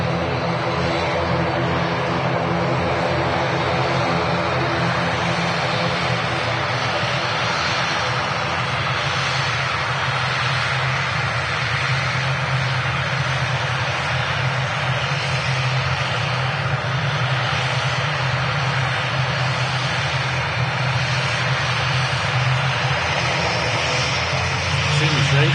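An aircraft at Manchester Airport rumbles steadily at a moderate distance for the whole stretch, swelling slightly over time. A person talks intermittently underneath it.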